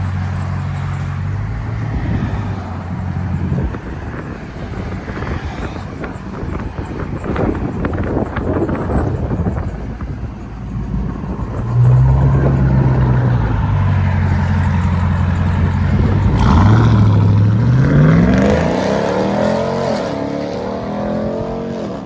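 A 2021 Ram TRX with a 6.2L Hemi V8 and a straight pipe exhaust, a loud, raw engine rumble idling and then revving hard twice with rising, roaring pulls, close by.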